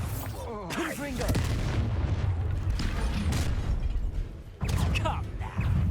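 Explosive spell blasts from Bombarda and Confringo in Hogwarts Legacy, dense booming bursts and crackling impacts over a steady low rumble, with brief vocal grunts and effects mixed in during a combat fight.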